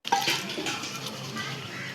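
Water is poured for washing feet, making a steady, close splashing and gushing that begins abruptly and runs on for about two seconds.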